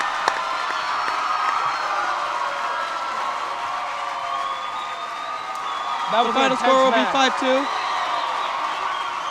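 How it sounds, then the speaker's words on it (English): A crowd at a high school wrestling meet between Milton and Stoughton keeps up steady applause and cheering, with an announcer speaking over the noise and a few shouts rising near the end. "Just listen to that crowd."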